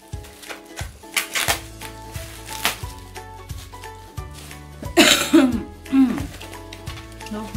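Someone coughs repeatedly at close range, harsh bursts with a louder fit midway, over a steady low rhythmic background.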